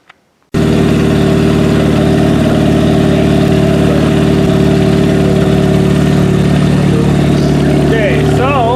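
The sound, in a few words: unhealthy-sounding Chevrolet G6 car engine running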